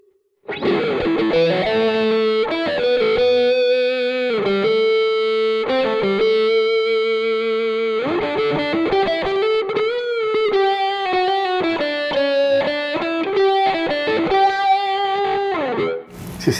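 Electric guitar through a Neural DSP amp plugin, played as a steady series of bright, effected chords and single-note lines with chorus-like shimmer, loud and continuous with no talking.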